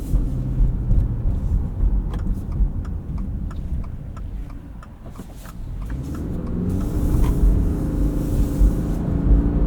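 A 2025 Subaru Forester Sport pulls away from a stop, its engine rumble building steadily inside the cabin with a rising drone and faint ticking over a low road roar.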